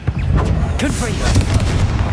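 A Confringo fire blast spell cast in Hogwarts Legacy, a loud booming burst with a rushing fiery tail, close and forceful amid game ambience and other spell effects.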